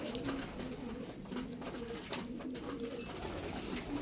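Pigeon hens housed with young birds coo in low, throaty calls that run on and overlap, a flock sound heard nearby without speech.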